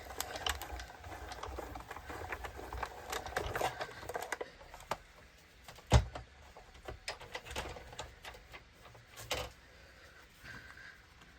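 A paper strip is cranked through an embossing folder in a small die-cut machine, giving a faint, steady mechanical rattle and rolling clatter with a brief sharper clunk partway through, close by and without speech.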